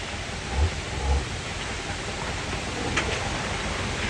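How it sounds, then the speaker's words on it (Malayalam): Heavy rain pours steadily at a spot beside Urumbi Waterfalls during a 4x4 off-road outing, a dense, even hiss of falling water that stays loud and unbroken throughout. "നല്ല മഴയത്താട്ടോ നമ്മളിപ്പോൾ നിൽക്കണത്"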